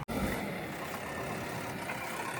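A JCB 3DX backhoe loader's diesel engine runs steadily nearby, with Mahindra tractors at the site, a continuous low rumble with no pauses after a brief opening click.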